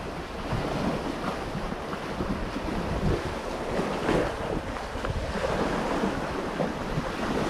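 Ocean waves wash ashore at Nongsa Beach in a continuous, moderately loud surf, mixed with gusty wind buffeting the microphone and no voices.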